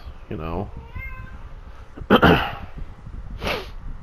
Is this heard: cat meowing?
yes